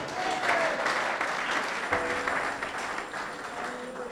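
A church congregation claps and cheers in praise, sustained loud applause from a crowd filling the room throughout, with voices mixed in.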